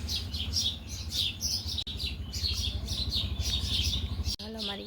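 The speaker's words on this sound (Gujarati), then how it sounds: "ચકલા મસ્ત બોલે છે" Sparrows chirp busily at dawn, a rapid stream of bright, overlapping tweets from several birds fairly close by. A steady low hum runs beneath them, and a couple of sharp clicks interrupt briefly.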